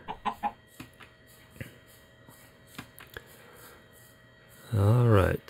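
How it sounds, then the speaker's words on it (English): Minecraft chickens cluck in short, close bursts, a few quick clucks at first and then sparse single ones, before a voice briefly speaks near the end. "Chickens following me around."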